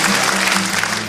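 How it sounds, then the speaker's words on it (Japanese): A live concert audience claps steadily in a brief, dense burst of applause after a folk song, heard alone with no talking. "温かいご同情の拍手はありがとうございます"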